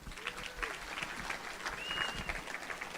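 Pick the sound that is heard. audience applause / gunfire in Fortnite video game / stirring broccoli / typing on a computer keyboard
audience applause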